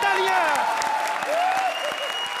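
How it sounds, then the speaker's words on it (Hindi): An audience claps loudly and continuously while a voice speaks over the applause, which stays steady throughout. "सुपर हिट, जोरदार तालियां।"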